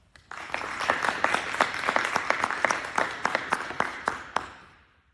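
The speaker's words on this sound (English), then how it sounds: "Let's give these people a round of applause." Round of applause from a small audience at an FFA Greenhand Degree ceremony, a run of distinct, fairly close claps that starts abruptly, holds steady for several seconds, then fades out.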